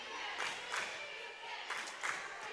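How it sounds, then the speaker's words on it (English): A gym crowd at a girls' varsity volleyball match, Shanley vs. Sheyenne, cheering and clapping at moderate distance, with several brief swells of louder applause over a steady murmur. "Crowd starting to get into it now."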